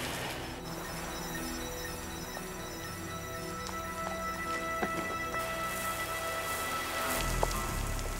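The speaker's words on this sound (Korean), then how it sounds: "이거 비가 많이 오는데" Heavy rain falls on a road at night, a dense, steady hiss of drops with occasional sharper splashes and a slight swell toward the end, fairly faint and distant, no talk.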